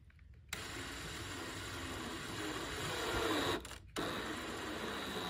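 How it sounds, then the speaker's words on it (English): A power drill with a step bit enlarges a hole, its motor starting abruptly into a loud, steady whirring grind that rises slightly, cuts off briefly, then resumes, close with no talk. "We can use a step bit to enlarge the hole."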